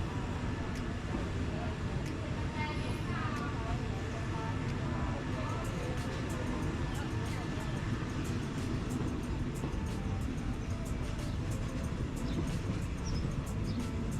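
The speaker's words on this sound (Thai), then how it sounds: "กำลังเคลื่อนขบวนออกจากสถานีรถไฟอยุธยาแล้วครับ" A passenger train rumbles and rattles steadily as it pulls away from Ayutthaya station in Thailand, a continuous low roar with faint clacking and voices murmuring in the background.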